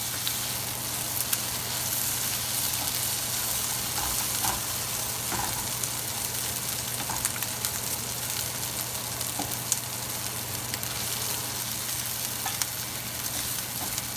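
Omelette filling with tomato and onion frying in a pan until crisp, a steady close sizzle with faint crackles and occasional stirring clicks, and no talk over it.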